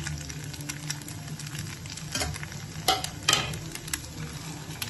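Beaten eggs and potatoes fry in a pan over medium flame while a spatula stirs them, a steady close sizzle broken by scraping strokes and a few louder scrapes and knocks against the pan.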